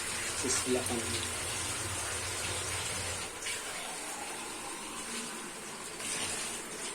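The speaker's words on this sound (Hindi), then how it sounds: "और इसमें डाल देंगे वाटर।" Water pours steadily from a container into minced meat cooking in a pot for an iftar meal, a close continuous gushing splash that rushes and settles over several seconds.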